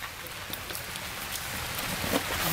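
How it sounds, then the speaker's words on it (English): Pouring rain makes a dense, steady hiss that grows a little louder toward the end, with scattered drops pattering close by. "it's pouring rain right now"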